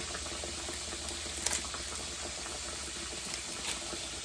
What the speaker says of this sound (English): the pork chop is still frying